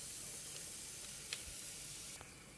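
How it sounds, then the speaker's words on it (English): Curry powder sizzles in hot oil in a Jamaican-style pot for curry cow head and tripe, a steady, faint broadband hiss with a few brief crackles, no talking. "Now I'm adding my curry to burn."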